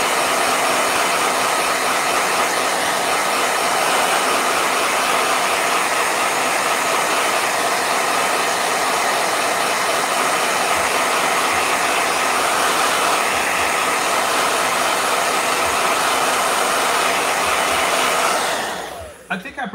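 Blow dryer, kept in a holster on the side of an art table, running continuously with a loud steady roaring whoosh for nearly twenty seconds before cutting off.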